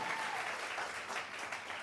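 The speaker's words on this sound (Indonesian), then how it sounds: "Tepuk tangannya boleh yang paling meriah buat Raja di atas segala raja" A congregation applauding at a church sermon, a short burst of dense, steady clapping from many hands that fills the room evenly without a pause.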